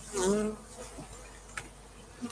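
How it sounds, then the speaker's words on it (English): Honey bees buzz close by in a brief, fluctuating drone that swells early and then thins, with no talking. "A bunch of bees that are not supposed to be here."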